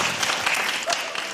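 Brief burst of audience applause at a Romanian talent show stage, steady close clapping filling the short moment.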